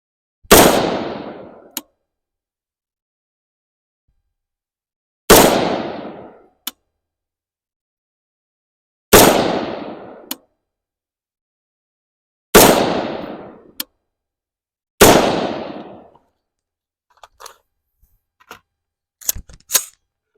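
Five sharp rifle shots from a Palmetto State Armory Sabre with a 13.7-inch barrel, fired outdoors at a distant target, each loud crack ringing out with a short decaying tail, spaced several seconds apart, followed by faint clicks and handling noises.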